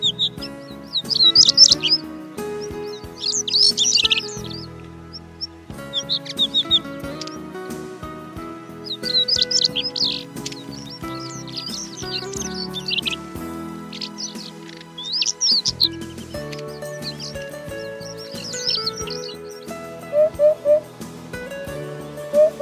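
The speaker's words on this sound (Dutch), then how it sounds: "Roodborst daarbuiten zien we zelden op de Waad, maar een enkele keer komt hij hier toch te broeden." A European robin sings at the Makkumerwaard in the Netherlands, pouring out bursts of high, thin warbling phrases separated by short pauses. The song sits over a soft, steady low background.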